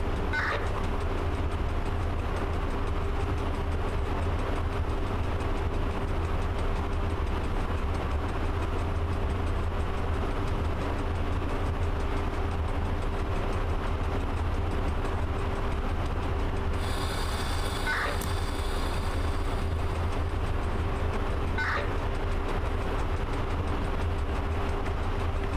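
A locomotive coasting on rails in the video game Train Driver 2: a steady, loud rolling rumble with a constant low hum and a few faint squeaks and clicks, and no one talking.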